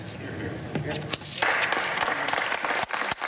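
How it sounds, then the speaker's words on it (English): Senators applaud in the Senate chamber after a floor speech, a steady wash of clapping that swells partway through and carries on under voices, with a few sharper nearby claps. "As the senators applauded her decision to abandon the president"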